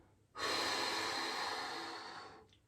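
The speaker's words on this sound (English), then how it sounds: "As I breathe air in, my stomach is coming out." A single long, deep breath drawn in steadily for about two seconds, close and clear, with a soft airy hiss that fades at the end. It is part of a slow belly-breathing exercise in which the stomach pushes out on the inhale.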